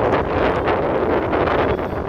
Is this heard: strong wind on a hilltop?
yes